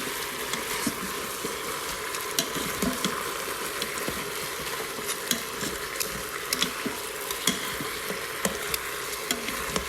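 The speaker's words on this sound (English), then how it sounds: "Okay, I'm adding just a little bit of tomato paste. And I'm going to stir this in." Tomato paste being stirred into Haitian bouillon in an Instant Pot: a steady sizzling hiss with soft scraping and clinking of the spoon at irregular intervals, no talking.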